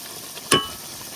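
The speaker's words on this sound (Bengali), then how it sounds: "মশলাটা খুব ভালো করে কষাই নিচ্ছি আমি।" Spice masala being stirred and fried in a pan for soybean kosha, with one short scrape and sizzle burst near the middle over a quiet background.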